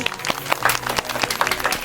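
A small family group claps for the winner of a biscuit challenge party game, a short burst of uneven hand clapping from a few people at close range, with some faint chatter mixed in.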